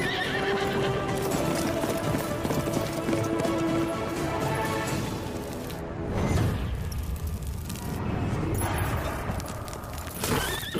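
Horse hooves clip-clop steadily with loud neighs and whinnies, close and clear, from a Hindi-dubbed South Indian action film scene, with no talking over the sound.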